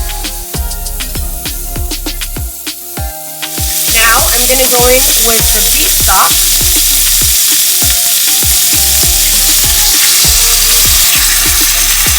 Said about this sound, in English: now it's time to get started with sauteing our onions and stuff